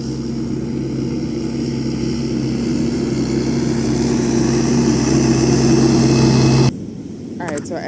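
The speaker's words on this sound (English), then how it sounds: "There's a tractor that's about to pass by, so it's gonna get really loud." A tractor rolls past close by outdoors, a loud steady low engine drone with a droning hum that builds for nearly seven seconds, then cuts off abruptly to quieter background.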